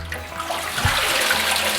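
Running water rinses harvested winter lettuce greens held in a basket, a steady close splashing wash throughout with no talking.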